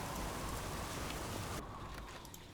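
Steady rain in the video game Big Ambitions, a dense, even hiss of falling drops on surfaces, fairly faint and continuous, thinning slightly near the end.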